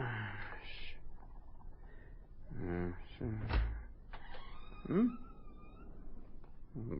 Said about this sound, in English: Blasted door.